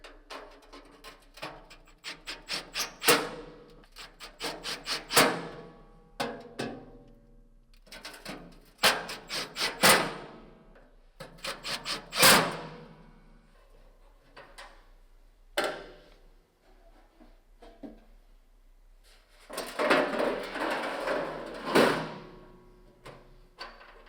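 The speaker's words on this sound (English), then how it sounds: "we're going to take these 4 screws with washers and secure the hopper back to the body" Screws with washers are driven in to fasten the hopper back onto a Camp Chef Apex pellet grill, heard as bursts of rapid ratcheting clicks and taps up close, separated by short pauses and a few sharper knocks.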